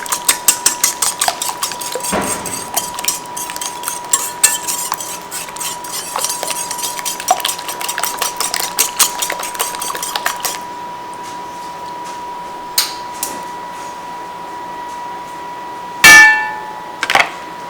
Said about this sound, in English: I'm just going to mix that in.